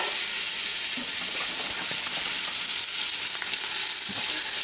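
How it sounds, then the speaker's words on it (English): Onions, cabbage and other vegetables sweat in a hot, full soup pot, giving a loud, steady sizzle and hiss that runs unbroken throughout, close up. "throw in our vegetables, season it properly, and then we're just gonna sweat it down"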